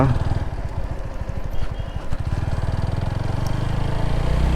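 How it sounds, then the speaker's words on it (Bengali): A motorcycle is ridden and turned around on a narrow road lined with coconut trees; its engine thrums in a close, steady, pulsing rhythm that dips briefly mid-turn and then carries on evenly. "তো বাইকটা আমি এখন ঘুরাই নিব"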